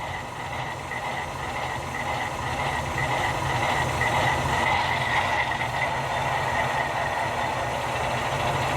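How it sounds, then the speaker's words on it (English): A Walthers Mainline Alco PA model locomotive with DCC sound runs its diesel prime mover, a steady rumbling engine drone with a faint knock that holds at an even level throughout. "So prime mover responds according to throttle, so that's good."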